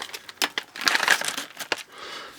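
A non-resealable plastic snack package is torn open up close, giving a quick series of soft crinkles and sharp tearing rips over a couple of seconds.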